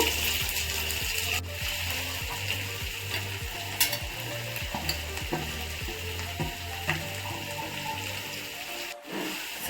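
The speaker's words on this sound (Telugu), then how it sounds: "క్యాబేజ్ అంతా బాగా ఫ్రై అయ్యే వరకు మనము మగ్గించుకుందాము" Shredded cabbage fries in a pan with chana dal, sizzling steadily while a spatula scrapes and stirs at close range in a loose, repeated rhythm.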